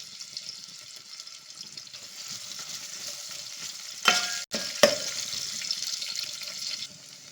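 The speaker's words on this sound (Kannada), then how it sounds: "ಇದಕ್ಕೆ ಈರುಳ್ಳಿ ಸ್ವಲ್ಪ ಕೆಂಬಣ್ಣ ಬರೋವರೆಗೂ ನಾವು ಫ್ರೈ ಮಾಡ್ಕೊಳ್ಳೋಣ" Onions frying in hot oil in a pot, a steady close sizzle with a couple of brief louder clatters of stirring partway through, no voices.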